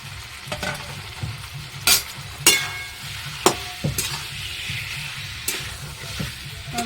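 Bata fish pieces are stirred into a frying papaya curry, a steady close sizzle punctuated by several sharp scraping spoon strokes against the pan at irregular intervals.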